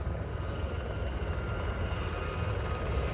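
Gazelle helicopters flying in a three-ship formation at an outdoor air show, a steady roaring rotor and engine drone at moderate distance, sustained and even throughout with no talk.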